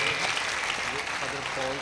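A congregation claps for a priest during a Catholic church coronation ceremony for Mother Mary, with steady, dense applause and a voice and tonal sounds audible underneath throughout.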